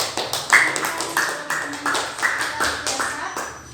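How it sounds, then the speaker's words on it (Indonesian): Classroom applause from a group of students in a lesson on the Qur'an, a few seconds of dense, moderately loud clapping with overlapping hand claps and some voices mixed in. "Kita beri aplaus buat kita semua."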